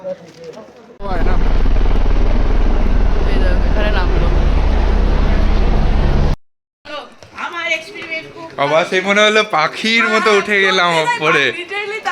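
Loud, steady helicopter roar for several seconds on the Vaishno Devi pilgrimage route that suddenly cuts off, followed by people talking close by.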